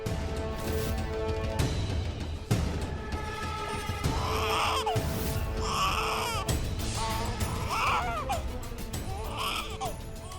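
A baby cries in a television drama scene, giving four or five short wailing bursts at a moderate distance. The cries repeat at regular intervals over a faint background music bed.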